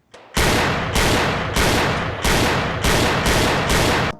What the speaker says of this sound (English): Sideshow here allows you to practice your target shooting